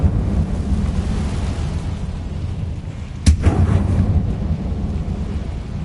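A single sharp burst from the Incendio fire spell being cast in Hogwarts Legacy, a loud crack with a brief crackling whoosh that fades over about a second, set against a steady low rumbling ambience.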